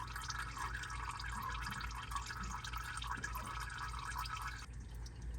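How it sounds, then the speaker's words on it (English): Engine oil dripping steadily from a 2.0T Hyundai Sonata during an oil change, a continuous faint patter that runs under low background noise. "Dripping forever."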